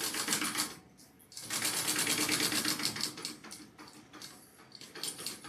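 Sewing machine basting mesh onto a med bag: a fast, steady mechanical chatter runs close and loud, breaks off briefly near the one-second mark, then resumes with a few short stop-start bursts toward the end.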